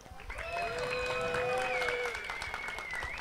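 An audience at a live DJ battle event gives a round of applause and cheers, with dense clapping and high whistles or shouts rising over the crowd for a few seconds.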